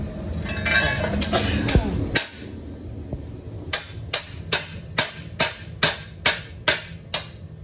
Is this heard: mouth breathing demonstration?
no